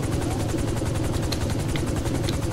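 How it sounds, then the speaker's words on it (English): A helicopter in GTA 5 on PS4 drones with a rapid, steady rotor chop and a low engine throb, loud and continuous with no talk over it. "This helicopter survived a bail."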